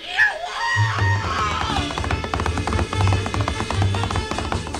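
A cartoon bull screams after sitting on a bumblebee: a wavering, high-pitched voiced cry that slides down, then gives way to busy, rhythmic comic music.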